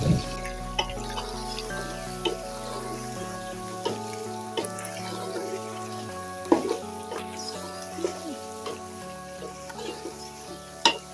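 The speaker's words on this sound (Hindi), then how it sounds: "तो 1 मिनट तक लहसुन अदरक के साथ भून लेंगे" Garlic and ginger paste sizzles steadily in a pan over medium heat, with a continuous frying hiss and occasional scraping stirs and clinks up close, no talking.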